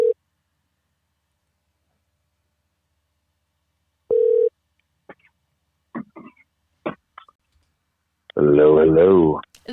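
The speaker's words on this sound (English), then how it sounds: "Phone should be ringing." A telephone ringback tone sounds in two short bursts while a call is placed on a live horror hotline broadcast, followed by faint clicks and a voice answering loudly near the end.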